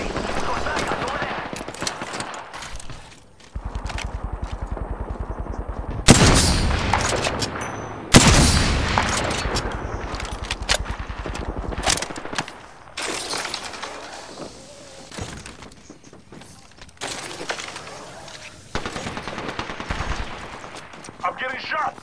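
Apex Legends gunfire crackles in bursts, sharp automatic shots and impacts mixed with shattering hits, loud and irregular, with pauses between volleys.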